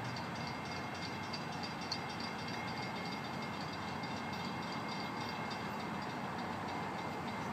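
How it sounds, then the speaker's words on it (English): FEC train 101 rolling past on the railroad on a cold night, a steady dense rumble of cars and wheels heard from nearby, continuous and even throughout with no voices. "FEC Train 101."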